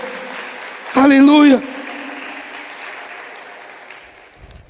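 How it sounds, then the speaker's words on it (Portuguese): A church congregation applauds during a service: diffuse, steady crowd clapping runs beneath a loud shouted exclamation and continues alone afterward, gradually fading. "Se é para Jesus, aplauda, irmão. Aplauda mesmo."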